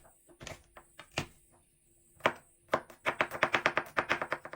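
A knife chops garlic cloves on a cutting board, a few scattered cuts at first, then a fast run of regular close, crisp chops.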